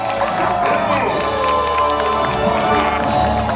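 Theme park crowd at a Disney villains stage show cheering and shouting loudly over booming show music, a dense roar of voices sustained throughout.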